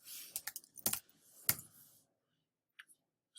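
Several sharp keystrokes on a computer keyboard as a name is entered, a quick cluster of clicks followed by a pause and a couple of faint final taps, with no talking.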